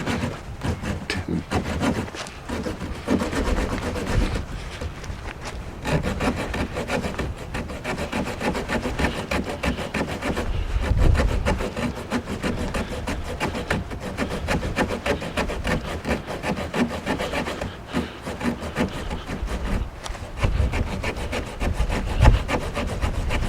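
A hand saw works steadily back and forth through a green, sap-filled lodgepole pine branch, giving a loud, continuous rasping rhythm at close range for over twenty seconds with no talking.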